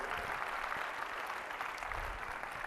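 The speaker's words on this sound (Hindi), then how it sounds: "तो जबरदस्त तालियां मार दीजिए थॉमस एडिसन के लिए।" Dense, steady applause from a live audience at a motivational speech, a continuous wash of clapping filling the whole stretch without pause.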